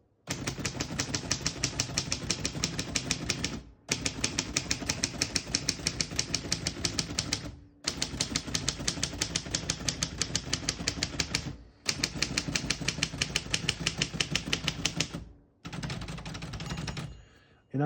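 Rapid, steady keystrokes hammer on a 1947 Royal Quiet Deluxe portable typewriter with elite type, four long bursts of loud, close clacking separated by short pauses, then a fifth shorter run.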